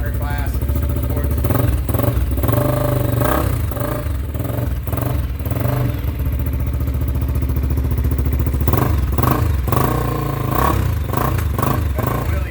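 A Honda XR250 dirt bike engine revs steadily and loudly at close range, its mid-pitched drone rising and falling in repeated throttle blips with some clatter, and a voice talks over it in places.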